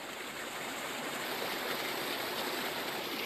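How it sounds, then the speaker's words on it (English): Steady rushing water of a waterfall in the video game Dot Big Bang, a continuous broadband roar holding even and loud for the whole stretch with no talk over it. "this is a waterfall"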